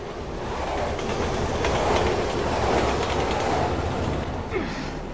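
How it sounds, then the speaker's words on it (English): A train rolls past in the video game Resident Evil 6, a steady loud rumble of wheels with faint clickety-clack and a brief squeal near the end, with no talk over it. "Train!"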